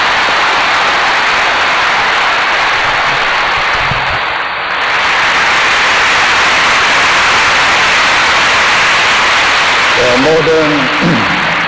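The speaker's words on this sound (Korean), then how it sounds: "우리 박수로서 우리 목사님을 환영해 주시기 바랍니다" A church congregation applauds to welcome the pastor, producing a loud, continuous roar of many hands clapping that holds steady throughout, with a voice starting to speak over it near the end.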